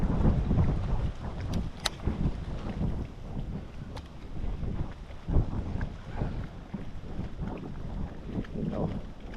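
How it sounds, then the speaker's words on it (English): Rough wind buffets the microphone outdoors on open water from a small plastic boat, a constant loud rumbling roar with gusty swells and faint water sounds beneath. "there's some rough wind today."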